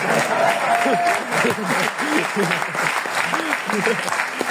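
Audience applause at a stand-up comedy show on stage, steady dense clapping throughout with a voice speaking over it.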